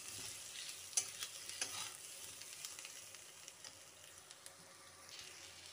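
Onions frying in oil with turmeric, stirred in a pan: a steady soft sizzle with a few scraping clicks of the spoon, close and fairly quiet, no talking.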